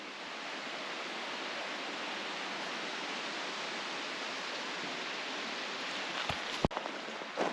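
A creek flows beside a walking trail in Karijini National Park, a soft continuous rush of water, steady and fairly quiet, with a few brief clicks and knocks near the end.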